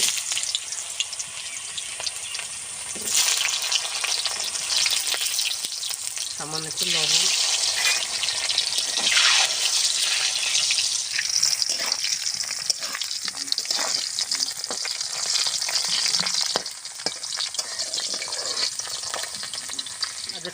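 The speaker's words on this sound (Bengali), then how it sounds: "আমি গাজরটা ভেজে নেব" Carrot pieces fry in mustard oil in a wok with a steady, close sizzle and occasional stirring scrapes throughout, while a voice speaks briefly over it.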